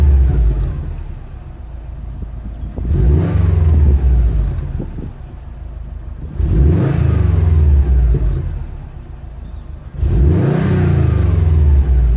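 A 2012 Subaru WRX hatchback with a Greddy Supreme SP aftermarket exhaust revs three times, each rise climbing to a deep, rumbling roar and falling back to a throaty idle between bursts.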